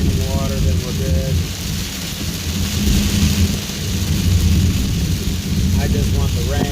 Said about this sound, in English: It's kind of just going slow and dropping rain.